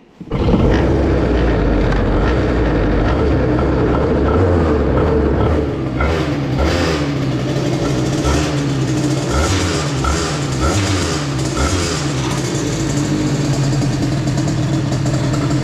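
Loud and close, a moped with a 2Fast 70 exhaust and Carters Boost runs at a steady idle. Its buzzy drone continues without a break and shifts slightly partway through, with no speech.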